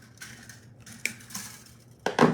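Craft snips cut through a length of craft wire in a quiet room, giving a couple of sharp, close metallic clicks about a second apart.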